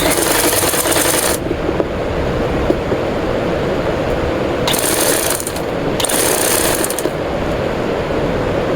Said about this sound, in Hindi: इस कोने से कोने को मिला के इस तरह से इसकी सिलाई लगाएंगे ताकि कली हमारी बिल्कुल सीधी आए